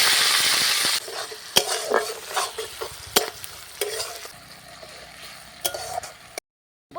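Chopped onions going into hot oil in a kadai where cardamom has already crackled, sharp stirring clinks of a utensil against the pan over a bright, steady sizzle that fades after the first second, close up with no talking.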